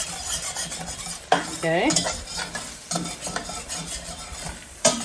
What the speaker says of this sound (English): And scrape up that fawn while it's cooking.